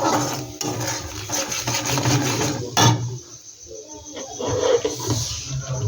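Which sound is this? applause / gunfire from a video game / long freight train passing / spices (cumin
spices (cumin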